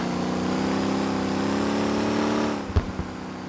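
Kombi biturbo with a 3.6 400 hp engine in Motor Town racing game, a steady engine drone that drops off, followed by a few sharp backfire pops close up.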